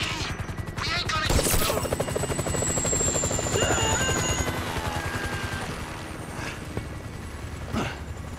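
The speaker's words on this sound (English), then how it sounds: "Can you hear that? Chopper! Incoming!" A helicopter approaches in the video game Grand Theft Auto V, its rotor throbbing loud and steady throughout, with whooshes, a high whine and brief crackles in the mix as the game's action goes on.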